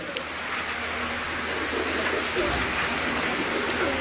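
Pigeons coo softly amid other bird calls at a pigeon keeper's place in Sialkot, a continuous low warbling over steady background noise.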